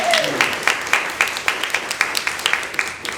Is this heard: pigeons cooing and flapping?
no